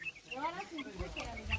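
Free-range chickens on a farm cluck and cackle in short rising calls close by, with someone talking over them toward the end.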